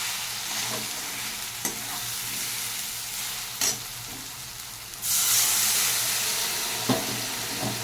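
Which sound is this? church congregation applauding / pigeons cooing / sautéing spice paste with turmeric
sautéing spice paste with turmeric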